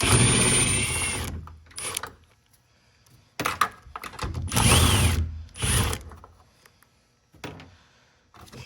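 Power ratchet breaking loose 10 millimeter bolts on a Chevy Silverado or GMC Sierra tow mirror, several loud close whirring bursts separated by short pauses.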